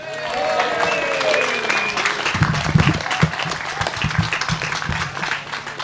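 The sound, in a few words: audience applause and cheering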